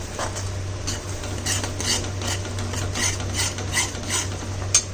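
Ridge gourd peel paste being stirred with sugar in a wok over a low flame, a continuous close scraping and rubbing of the spatula in a steady rhythm over a faint background hum, with no talking.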